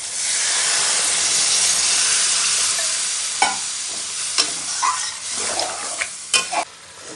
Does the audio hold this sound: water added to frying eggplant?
yes